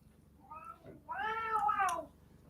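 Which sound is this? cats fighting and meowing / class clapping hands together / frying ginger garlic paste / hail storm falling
cats fighting and meowing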